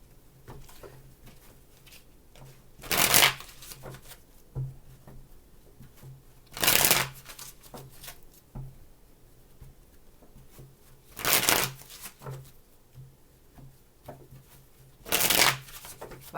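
Tarot cards are shuffled in four quick, crisp riffling bursts spaced several seconds apart, with soft handling sounds and quiet pauses between them.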